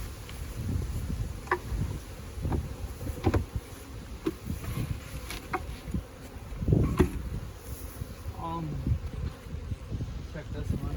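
Honeybees buzz steadily around a summer beehive sitting beneath a tree, a close, continuous insect drone mixed with rustling and handling noises while a person talks over it.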